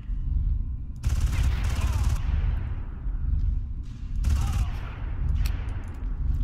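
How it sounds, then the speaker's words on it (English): Two bursts of rapid assault rifle fire in the Far Cry video game, each a loud, dense volley lasting about a second, over a heavy low rumble of game background noise. "I like this assault rifle we got, though."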